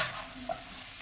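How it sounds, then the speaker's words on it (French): Shrimp being stirred in coconut milk in a pan, giving a soft continuous simmering sizzle with one brief scraping stir near the middle, close and fairly quiet. "Et remuer."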